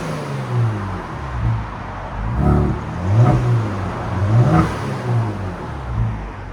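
A 2019 Kia Stinger 3.3L twin turbo V6 with an MBRP axle-back exhaust idles with a deep burble, then is revved several times in swelling, rising pulls that fall back to idle, heard close by with no talk.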